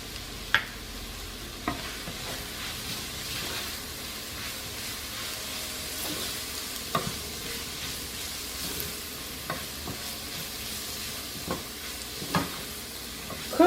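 Vegetables with garlic powder, onion powder and black pepper stirred in a hot pan, a constant close sizzle with occasional scrapes and taps of the utensil over about fourteen seconds, no talking.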